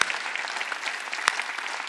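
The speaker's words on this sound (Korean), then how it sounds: "깨달은 사람만 박수" A church congregation breaks into a dense, steady round of clapping in a reverberant hall, with many hands applauding evenly and one sharper clap standing out near the end.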